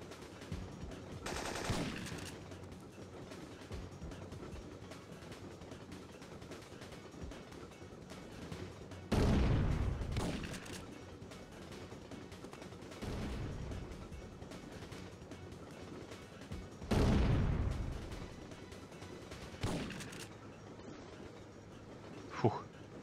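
Shotgun blasts and gunfire in the PS1 game Syphon Filter 2 during a Colorado train ride level, with two heavy booming shots standing out over a steady rumbling background and someone talking intermittently.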